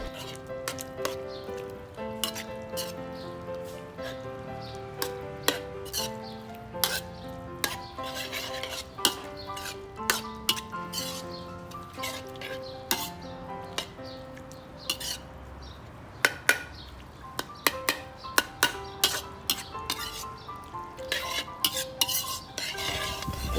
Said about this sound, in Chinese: 然后再放入少量盐哦，稍微的炒，让我们的猪肉熟一下